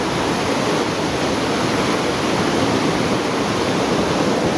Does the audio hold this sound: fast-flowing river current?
yes